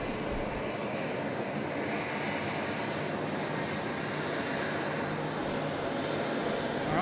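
An Airbus A320neo engine at Sydney Airport, heard as a steady, broad jet roar with a constant low rumble held at an even level throughout, without speech.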